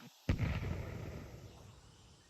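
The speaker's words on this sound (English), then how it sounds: "Throwing flashbang." A flashbang grenade going off in Counter-Strike 2, a single sudden heavy blast with a deep booming body that fades out over about two seconds.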